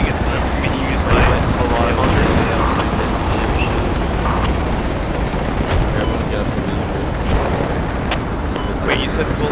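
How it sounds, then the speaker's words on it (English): Loud, dense battlefield noise from the Project Reality military shooter on the Falklands Goose Green map: continuous gunfire and heavy booms of a bomb explosion, with people talking over it. "that bomb was directed on either friendlies or enemies"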